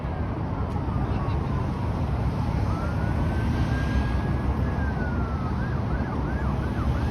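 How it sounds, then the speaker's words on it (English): Emergency vehicle sirens wailing on a downtown Toronto street near Fort York, rising and falling in the distance, with a faster yelp toward the end, over loud steady traffic and wind noise. "Oh, I hear sirens."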